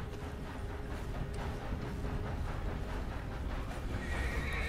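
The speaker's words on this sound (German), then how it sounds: "Mein Pferd." A horse in the Red Dead Redemption 2 video game whinnies while hooves clip-clop beneath it, the sounds coming close and fairly loud over a low background rumble, with no speech.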